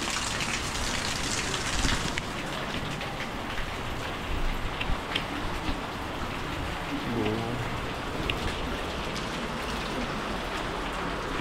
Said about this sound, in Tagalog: Ilang oras na nag-uulan.